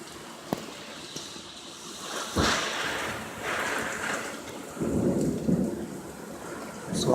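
A thunderstorm with high winds and heavy rain, steady rain hiss throughout, a sharp crack near the start, and a loud thunder rumble building around the middle, with wind gusts swelling toward the end.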